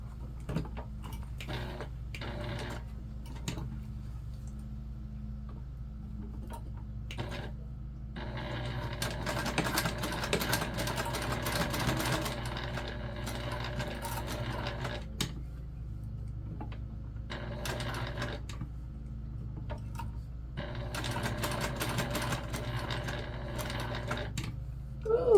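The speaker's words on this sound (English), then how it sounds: "Now we're just going to top stitch around our bag tag." A sewing machine top-stitches around a bag tag for a Mini Magda bag, running in bursts of steady rapid stitching separated by short pauses, close and fairly quiet, with no talking.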